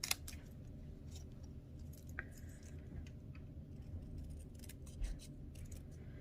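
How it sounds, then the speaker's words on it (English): Small snips cut out a stamped paper image for a card, giving faint, sparse crisp clicks and snipping sounds in a quiet room. "we're going to cut this out just with our snips here"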